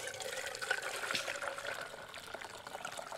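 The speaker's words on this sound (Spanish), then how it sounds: "con ayuda de este colador le voy a retirar las frutitas" Capulín atole, a thin fruit drink, is poured through a strainer outdoors in the countryside, making a steady, soft, continuous trickle and splash of liquid with no voices.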